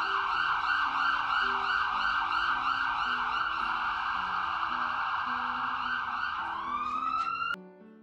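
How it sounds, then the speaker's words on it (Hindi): An ambulance siren wails loudly and steadily in a continuous rising and falling pattern with no talk, then cuts off abruptly near the end. "और इधर एम्बुलेंस आ जाता है।"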